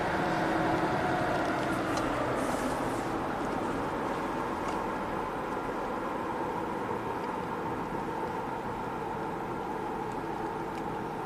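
A 2007 Acura RDX with a turbocharged engine drives along a road, its steady broadband road and wind noise mixed with a low engine hum heard from inside the cabin, continuous and fairly quiet.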